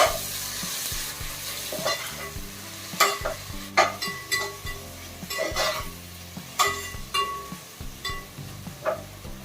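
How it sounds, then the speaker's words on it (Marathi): Chopped onion and tomato sizzle in a pan for mutton biryani while a spoon stirs them, producing repeated scraping strokes in an irregular rhythm over a constant close frying hiss. "आपल्याला चांगलं गाळ करून घ्यायचं आहे तोपर्यंत त्याला परतत राहायचंय आहे"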